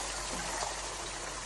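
Hot water pours steadily into a pot of vegetable pulao, a continuous close gushing wash with no talk.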